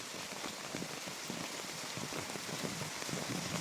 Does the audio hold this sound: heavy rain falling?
yes